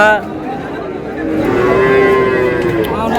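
Young calves, both bull and heifer, moo at a village cattle market, one long drawn-out low call rising over a steady crowd murmur and market bustle.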